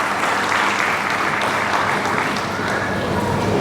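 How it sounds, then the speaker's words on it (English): Big round of applause from an audience at a school founders' day address, loud sustained clapping that stays even and dense throughout, with no voice on top. "I think that calls for a big clap"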